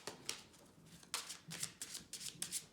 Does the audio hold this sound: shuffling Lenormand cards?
yes